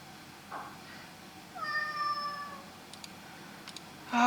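Domestic cat meowing indoors, a few short mews early then a longer drawn-out meow in the middle, fairly close and clear over a quiet background, ending with another rising call.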